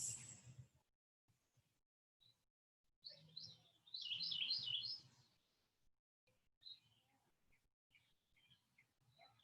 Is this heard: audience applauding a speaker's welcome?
no